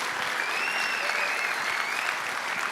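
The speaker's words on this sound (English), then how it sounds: "let's give them a big round of applause right now for putting this on for us." An audience at the FS Expo breaks into dense, sustained applause, steady clapping from a large crowd with a couple of thin whistles riding over it.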